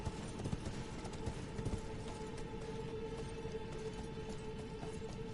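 In Elden Ring, a horse's hooves gallop in a rapid, steady stream of thuds. They sit within dense game ambience and a sustained droning tone.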